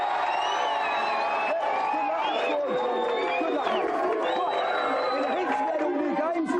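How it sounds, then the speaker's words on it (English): A television game-show studio audience cheers and whoops for a contestant, a loud continuous crowd roar with shrill yells and cries layered over it, lasting the whole stretch. "give him a big cheer"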